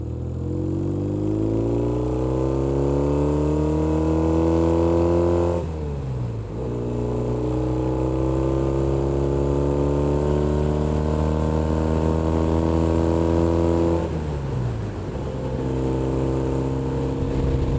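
A 1972 Norton Commando custom motorcycle with a 360-degree parallel twin revs loudly up through its four gears, steady rising engine tones broken by two brief dips at each shift, close and continuous with no talk.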